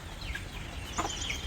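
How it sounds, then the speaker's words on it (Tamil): Guinea fowl calling on a farm, a couple of sharp, harsh clucking cries rising over a low steady background hum, fairly close and brief. "கின்னி கோழிக்கு பேர் தான் குயிலுன்னு வச்சுருக்கோம் நாங்கள"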